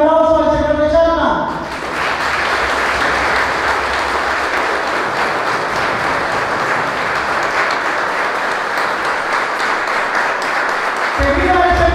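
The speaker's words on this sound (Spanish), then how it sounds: "Le damos un fuerte aplauso al señor de Chalma." A congregation bursts into loud, sustained applause for the Lord of Chalma after mass at a village feast in Eloxochitlán, Hidalgo, about ten seconds of dense clapping framed by a voice before and after.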